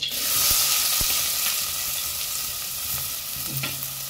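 Chopped onion fries in hot oil for a Goan prawn and cauliflower caldine curry, giving a steady, close hiss and sizzle with a few soft clicks of stirring and no voices.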